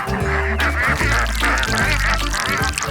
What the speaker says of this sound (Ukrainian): А, качки?